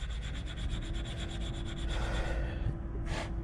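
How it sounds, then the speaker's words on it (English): Two brake pads from a 2001 Mercedes ML430 are rubbed face to face to even their surfaces, giving a rhythmic scraping back-and-forth of about a dozen quick strokes, close and steady, ending with a short breathy puff. "Gotta rub them together."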